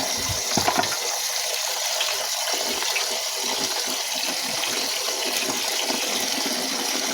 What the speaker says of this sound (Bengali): তো সবগুলো একসাথে ভালো করে আমি দুই তিনবার করে ধুয়ে নিলাম